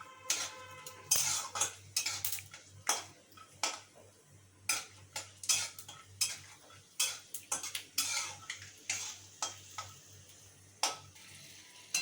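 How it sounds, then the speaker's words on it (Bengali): Peanuts frying in a pan over low gas heat, heard as a series of close, sharp scraping and clinking strokes of a spatula stirring against the metal, spaced irregularly over a faint steady hum. "বাদামটা একটুখানি ভেজে নিয়ে আমরা তুলে নেব"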